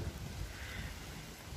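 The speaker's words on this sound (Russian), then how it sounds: "И вот у нас дождь пошел." Soft, steady rain falls at night outdoors near a balcony, a faint continuous hiss of drops heard alone with no voices.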